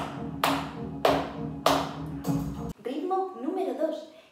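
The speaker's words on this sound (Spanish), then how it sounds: "Ritmo número 1 que practicaremos con palmas con la figura musical negra" Hands clap a steady quarter-note rhythm, with four evenly spaced, fairly loud claps over a sustained musical backing, followed by music carrying on alone.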